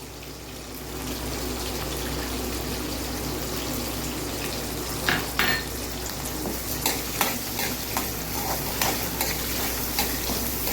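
Onions, green chillies and curry leaves fry in a pan for a village-style brinjal curry, giving a steady close sizzle with scraping stirs and light clinks growing busier toward the end, with no talking.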